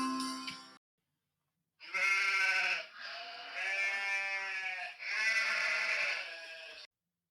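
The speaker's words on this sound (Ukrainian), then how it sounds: "Вівці Сімпсона не хочуть спати. Бе" Sheep bleating in a long, wavering cry, loud and close, broken into several drawn-out calls after a short opening sound, with no talking.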